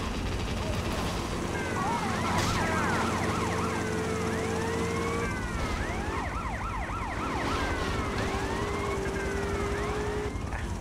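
Ambulance siren wailing in Grand Theft Auto Liberty City Stories, a repeated rising-falling electronic sweep that holds steady and loud over game traffic rumble and engine drone throughout, with a brief high tone layered partway through.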